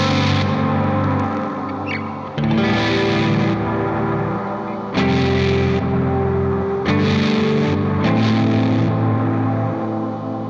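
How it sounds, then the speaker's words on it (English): Guitar reverb pedals on a post-metal and ambient pedalboard swell into washy, distorted chords that are chopped off abruptly by a Reverb-X gate several times, each cut leaving a brief ringing tail before the next loud burst. "the Reverb-X cuts off, but then the reverbs after it pull the remaining tail that's available after the gate clamps on"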